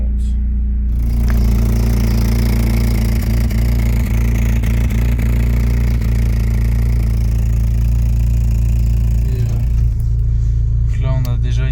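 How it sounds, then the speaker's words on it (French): A BMW 318is E36 idles with its cooling fan removed, a steady low engine drone with light rattling and clatter running throughout, heard close up. "on a enlevé le ventilo et on fait tourner la voiture"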